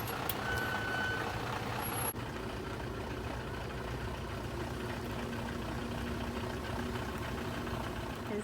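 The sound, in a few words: house truck manoeuvring with reversing beeps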